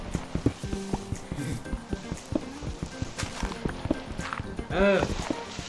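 Horse hooves clip-clop in a quick, steady rhythm through a video game scene, with a short neigh near the end, while someone talks over the hoofbeats.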